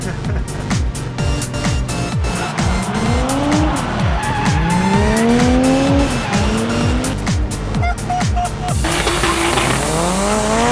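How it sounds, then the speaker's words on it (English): Cars drift in Japan, tires squealing in repeated rising and falling wails over roaring engines, loud and close, with voices talking underneath. "That's drifting. We're drifting under a rainbow in Japan, mate."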